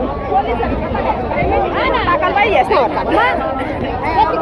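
A dense crowd at Saptashrungi temple hill at Vani fills the air with constant overlapping chatter and shouting voices, close and loud, no single voice standing out.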